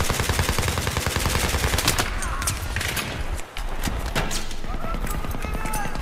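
Rapid gunfire crackles in multiplayer Battlefield 3 on PS3, with dense bursts of shots that pause briefly and resume, loud and close, while a player talks excitedly over the action.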